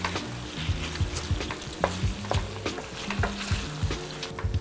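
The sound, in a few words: vegan mapo tofu simmering in pan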